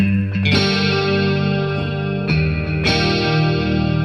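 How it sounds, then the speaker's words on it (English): Stratocaster-style electric guitar chords with a lush, shimmering chorus and trailing delay, strummed a few times and left ringing, clean and up close. "This is a nice open strat chorus delay."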